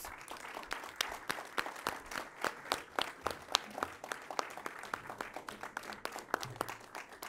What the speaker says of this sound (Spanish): un fuerte aplauso para todos ustedes por haber venido acá a esta Cámara de Diputados